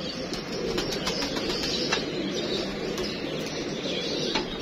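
Newly released pigeons take off and fly overhead, a steady outdoor rush of flapping wings with scattered brief flutters and faint chirps across the whole stretch.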